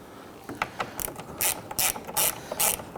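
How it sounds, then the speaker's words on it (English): Ratchet snugging down the side mirror bolts on a 2011-2015 Kia Sorento, close, crisp clicking strokes coming in a quick, repeated rhythm. "Let's go ahead and gently snug down the bolts here."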